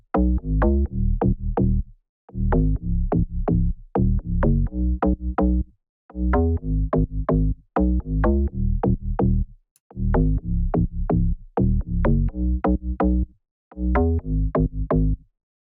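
Melodic deep house bassline, with sub and bass glued by OTT compression, pumping in steady repeated bars of punchy sidechained notes with short gaps between phrases, loud and alone without talk.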